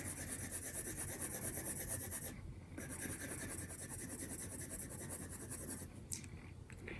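A wax-based colored pencil lays down a light shading layer on paper, giving a soft continuous scratchy rubbing close up, with brief pauses where the strokes stop.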